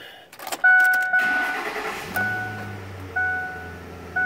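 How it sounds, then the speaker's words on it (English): A 2007 Ford F-150 XLT SuperCab pickup starting: a key click and dash chimes, a brief starter crank, then the engine catches and settles into a low, steady idle, with chimes repeating over it. "I go to fire the truck up."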